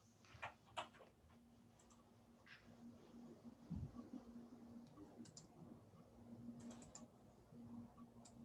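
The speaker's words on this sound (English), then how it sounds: "I'm just typing in a verification code" A verification code is typed on a computer keyboard: scattered, quiet key clicks in small bursts over a low steady electrical hum.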